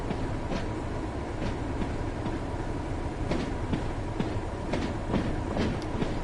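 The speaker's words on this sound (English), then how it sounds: "mix of locos on the rail tour." Locomotives on a rail tour in the game Train Sim World rumble steadily along the track, with rhythmic clickety-clack wheel beats and faint squeals over a continuous low roar.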